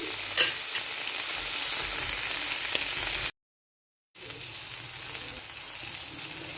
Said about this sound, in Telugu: వంకాయలు అలానే వేయడం వల్ల దానిలో పుచ్చులు అనేది ఉంటాయి కాబట్టి మనం ఇలా కట్ చేసి పెట్టేసుకొని వేయించుకుంటున్నాము